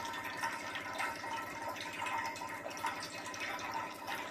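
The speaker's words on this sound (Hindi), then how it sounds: "तो अब अपना प्योर पानी आएगा" Water runs steadily into an RO water purifier as its post-carbon filter fills after a service and filter change, a continuous trickling, gurgling flow with faint drips, close and alone.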